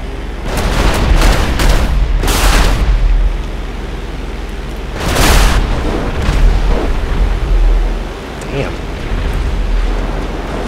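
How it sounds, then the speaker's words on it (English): Bomb explosions in GTA 5 with World War II mods, an aircraft carrier and Hellcat fighters bombing an enemy battleship: several loud booming blasts in bursts, separated by rumbling combat noise. "Those explosion sounds are pretty epic, though."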